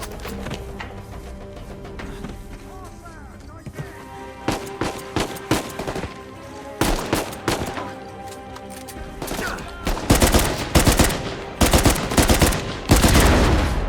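Gunfire aimed at a sniper in Uncharted 4, sporadic single shots early giving way to rapid bursts of loud, close automatic fire and heavy impacts in the second half.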